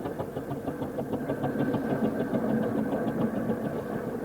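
A well-kept steam engine runs steadily with a rapid, rhythmic chuffing and mechanical knocking, moderately close, continuous throughout with no voices.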